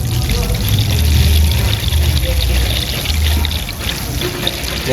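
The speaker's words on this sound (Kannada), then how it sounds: "ಜುಗು ಜುಗು ಜುಗು ಜುಗು ಜುಗು ಸಪ್ಪಳಾಗತ್ತೈತೆ ನೋಡ್ರಿ" Water gurgles and pours through a pipe with an airlock, a close, continuous bubbling flow with low rumbling surges, while someone talks over it.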